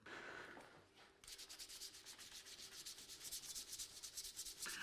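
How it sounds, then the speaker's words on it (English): Very fine sandpaper rubbing by hand over pink paint on a silver candelabra, a steady run of close, scratchy back-and-forth strokes that starts quietly and grows louder and more rhythmic after the first second. "I'm just going to sand the pink down a bit so some of the silver from the candelabra shows through"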